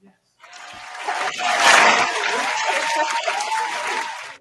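An audience welcomes a singer onto a music show, with applause swelling quickly from silence into a loud, steady roar of clapping and cheering that carries on to the end.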